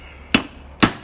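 An old, broken-down hammer strikes scrap transformers being broken up for copper: two loud, sharp blows about half a second apart, with no talking.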